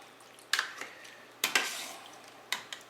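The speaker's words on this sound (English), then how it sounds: "you're going to kind of stir all this up" A spoon stirring vegetable soup in a pot, giving a few scraping, clinking strokes at irregular intervals over a quiet background, with no speech.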